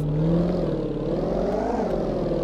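An old car's engine drones steadily at a low rumbling pitch in the video game Auto Sale Life, rising slightly as it revs, with a rough, gritty tone throughout and no voices.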